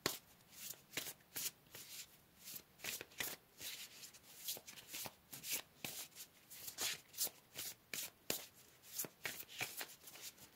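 Tarot cards being shuffled close up, a steady run of soft riffling and slapping bursts repeating for several seconds, with no talk over them.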